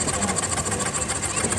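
McLaren miniature steam traction engine running in a parade at a rally: steady rapid mechanical chuffing and clatter with a high whine, continuous and fairly close, while a voice announces over a loudspeaker.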